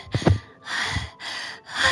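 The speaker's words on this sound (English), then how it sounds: "A sharp inhale, like someone is sucking in the air through their teeth." A sharp inhale through the teeth in the horror visual novel Doki Doki Literature Club, heard as a couple of quick gasping breaths followed by longer hissing, breathy draws, close and alone without talk.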